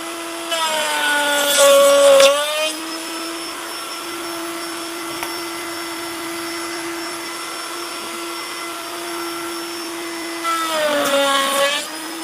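Power saw cutting wood for a bee box: a steady high motor whine runs throughout, rising into louder rasping bursts as the blade bites into the timber near the start and again near the end.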